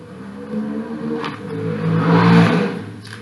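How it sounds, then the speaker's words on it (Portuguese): A motorcycle passes outside a church, its engine rising and swelling in a broad whir that peaks toward the end, heard from inside at moderate distance with no speech. "Esse barulho de moto"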